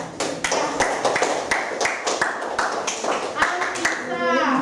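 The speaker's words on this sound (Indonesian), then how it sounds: "Tepuk tangan dulu untuk anak-anak." Clapping for children in a classroom storytelling lesson: a brief burst of several hands applauding, with sharp irregular claps spread over a few seconds and a voice speaking nearby.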